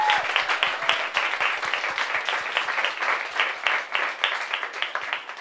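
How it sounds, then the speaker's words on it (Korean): A congregation at a church worship service bursts into warm applause, many hands clapping in a quick, busy patter that stays fairly loud and steady for several seconds. "아, 우리 나영 집사님한테 진짜 큰 박수"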